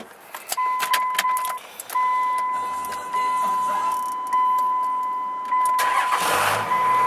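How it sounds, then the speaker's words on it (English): The engine of a 1998 Dodge 3500 dually pickup cranks and starts. Warning chimes beep repeatedly, then the engine settles into a steady close idle while the chimes continue. "Cranks right up."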